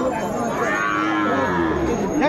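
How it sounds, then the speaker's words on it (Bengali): Cattle, including Sahiwal bulls and calves, moo loudly and at length, overlapping each other amid the steady hubbub of a crowded livestock market in Kushtia, Bangladesh. "আমরা দেখছিলাম যেদিকে তাকায় সেদিকে গরু আর গরু আমরা দেখছিলাম"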